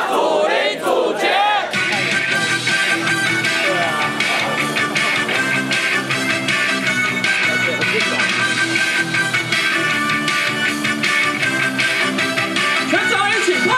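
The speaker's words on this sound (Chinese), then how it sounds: "全场一起来，跟着一起来，大声喊出来，应援一起来" Baseball stadium crowd at a professional all-star game chanting and cheering together in a sustained roar, with a voice leading through a loudspeaker over the mass of shouting.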